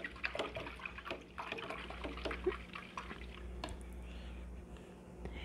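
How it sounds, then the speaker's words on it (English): A paintbrush is swished and tapped in a water jar during acrylic painting, giving faint, close liquid sloshing with small drips and clinks and no voice. "rinse my brush"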